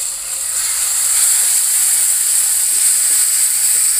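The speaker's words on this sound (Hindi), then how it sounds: "हम कटा हुआ टमाटर डाल देते हैं।" Chopped tomato hits a hot pan of spiced masala for Maggi noodles, setting off a loud, steady, close hiss and sizzle that swells slightly and holds without pause.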